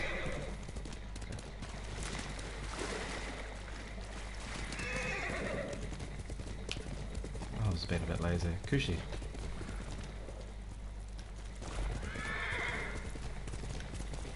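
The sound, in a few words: horse hooves and neighing, video game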